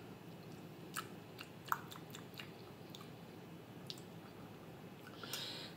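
Someone eats Indian food with a smoky teriyaki-like flavor alone, giving soft, close chewing with scattered sharp wet clicks and smacks over quiet room noise, and nobody speaks.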